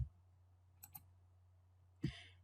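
A computer mouse clicks while points are selected in piping design software. There are a few faint, sharp clicks, a quick pair and then a single, over a low steady hum.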